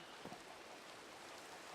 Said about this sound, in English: I will not have it raining on my bed.